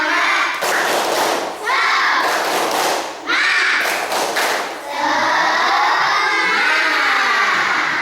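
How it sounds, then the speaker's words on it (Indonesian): A school class does a rhythmic spirit-clapping routine, tepuk semangat: repeated loud bursts of group clapping and children's shouted chanting in a classroom, ending in a longer sustained burst. "dengan tepuk semangat hari ini kita harus semangat untuk belajar"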